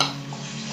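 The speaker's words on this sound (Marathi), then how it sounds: "थोडा कांदा घालते" Onion tipped into a hot pan with coarsely ground ginger and garlic while cooking a Maharashtrian onion bhaji, giving a steady close sizzle and stirring hiss with a faint clink of utensil, no voices.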